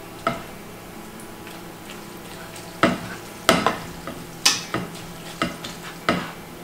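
Pasta being stirred into Bolognese sauce in a pan, with a low steady simmer under a series of sharp utensil scrapes and clacks that come in irregular bursts, close and moderately loud.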